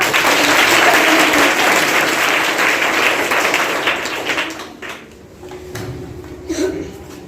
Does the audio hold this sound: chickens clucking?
no